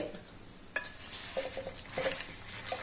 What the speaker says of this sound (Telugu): వేయించుకోండి. కొద్దిగా వేయించుకోండి.